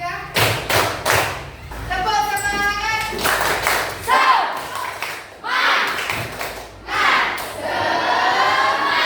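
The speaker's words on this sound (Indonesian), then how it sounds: "Tepuk 1, tepuk 2, tepuk 3, tepuk semangat" Children doing a rhythmic chanted clapping cheer in a classroom, with bursts of group clapping and thumping interleaved with shouted chanting voices.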